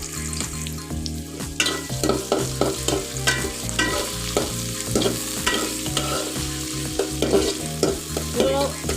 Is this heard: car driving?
no